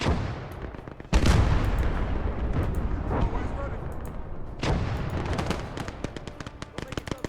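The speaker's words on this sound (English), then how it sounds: "This is our mortar battery. Get the mortars moving." Mortar battery firing in a D-Day to the Rhine war strategy game, two heavy booming blasts a few seconds apart, each trailing into rumbling echoes with scattered smaller gunfire crackles around them.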